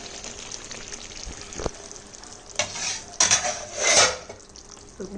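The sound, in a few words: jhinge posto (ridge gourd with poppy seed) sizzling in oil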